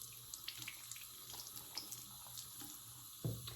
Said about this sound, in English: run it under the faucet again